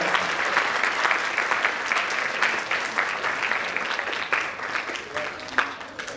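A big round of applause from the audience at a World Autism Awareness Day 2023 event, sustained crowd clapping at a steady, full level for several seconds, with faint talk mixed underneath.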